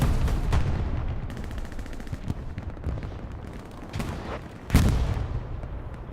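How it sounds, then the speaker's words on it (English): Dense gunfire from the World War II shooter Hell Let Loose on the Stalingrad map, with continuous rattling rifle and machine-gun bursts and a sharp heavy cannon blast from a tank near the end, loud throughout. "you've got tanks firing at you"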